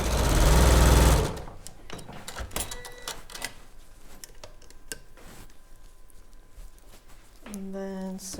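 A sewing machine stitches a Cathedral Window Christmas patchwork block, whirring loudly in a steady burst at the start, then quieter handling clicks, and a second short run near the end.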